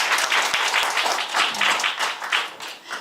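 A live audience applauds climber Alex Honnold with a close, steady wash of many hands clapping that swells and eases over a few seconds.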